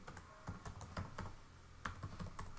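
Steady typing on a computer keyboard during an online course sign-up, with close, crisp key clicks in an irregular rhythm for the whole stretch and no talking.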